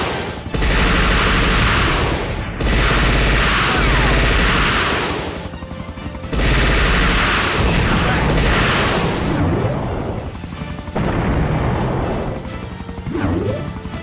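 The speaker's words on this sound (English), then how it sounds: "Hitting flying enemies with rockets is a little tough." Rockets fire and explode in a Sega Saturn shooter, loud and dense, in long crashing bursts of several seconds each, separated by short, slightly quieter gaps.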